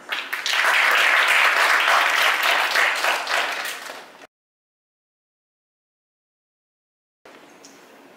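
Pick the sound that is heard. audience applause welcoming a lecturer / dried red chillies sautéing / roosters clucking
audience applause welcoming a lecturer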